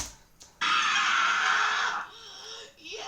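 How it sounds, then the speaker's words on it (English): Scream sound effect reused from Love and Death, heard during a Scarlet Witch versus Zatanna fight scene: a loud sustained shriek lasting over a second, then softer voices and movement. "I love that they use the scream from Love and Death."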